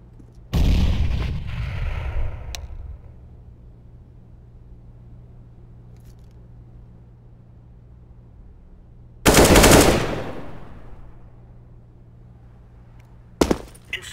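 In CS:GO, a grenade blast bursts loudly near the start and decays, then a second heavy explosive burst lands several seconds later, followed by a sharp shot near the end, with quiet hum between.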